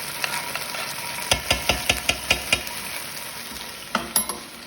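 Minced garlic sizzling in a pan as it is stirred, a steady hiss with a quick rhythmic run of about seven utensil scrapes, then a few more strokes near the end.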